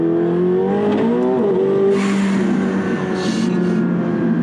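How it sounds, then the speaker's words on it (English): A 900 hp McLaren 720S engine roars and climbs in pitch under acceleration, with bursts of hissing air as the turbo blow-off valve vents between gear changes. "It makes some awesome turbo noises, and those blow-off sounds are just insane."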